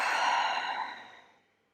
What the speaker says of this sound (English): A big breath out.